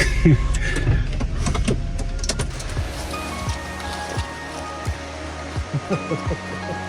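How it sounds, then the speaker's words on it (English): Waterfall in the woods rushing as a broad, steady roar of water, loud at first and then easing, with footsteps or knocks scattered over it toward the end. "I spotted a sweet ass waterfall."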